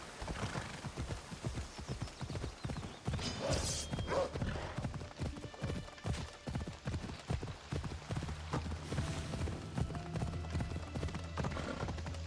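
Horse galloping in Assassin's Creed Odyssey, rhythmic clip-clop hoofbeats at a steady pace with a brief whinny, mixed with game ambience and background music.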